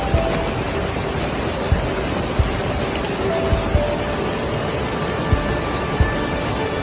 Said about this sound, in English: Flooding and heavy rains have created dire conditions in many parts of China.